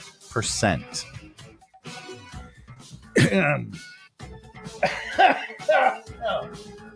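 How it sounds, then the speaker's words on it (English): A few sharp, harsh coughs in short bursts mixed in with a person talking, close and fairly loud. "I'm not redoing the segment because I had to cough"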